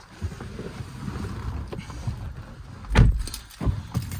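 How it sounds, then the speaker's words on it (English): Quiet cabin rumble with scattered knocks, then a heavy, muffled door thud as a 2012 BMW 520d M-Sport (F10) door slams shut near the end, followed by a softer second knock. "it does all have a reassuring thud when you shut the doors on it"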